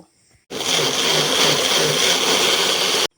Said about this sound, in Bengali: এবার কেটে রাখা আমের টুকরোগুলোকে একটা মিক্সির জারে নিয়ে খুব ভালো করে পেস্ট করে নেব